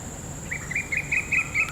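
A single bird chirping in a quick, regular series of short high notes over a faint steady background hum.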